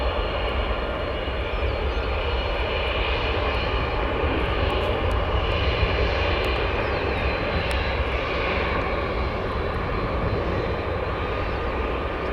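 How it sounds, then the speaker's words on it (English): A Boeing 787 jet on runway 10 Left at Chicago's O'Hare airport roars with a loud, steady engine drone that holds without pause, with no voices over it. "At 787 now, turning left, about to be cleared for takeoff on 10 left."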